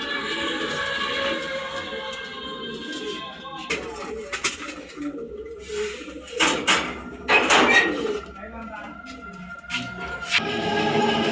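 Pigeons coo in a pigeon loft, soft repeated low throaty calls overlapping, with scattered clatters and wing or movement noises between them and a faint voice now and then.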